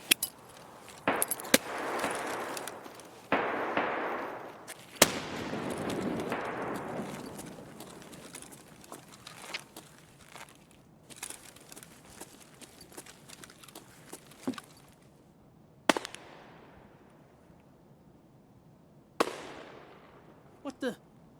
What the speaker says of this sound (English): Just throw a nade and listen.